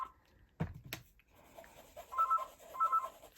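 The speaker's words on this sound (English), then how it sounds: "That phone rarely rings because you're probably like me, you don't use your landline. But of course it rings when I'm recording." A landline telephone rings in a home craft room: a couple of sharp knocks, then short electronic warbling ring bursts repeating at a steady rhythm, moderately loud and close.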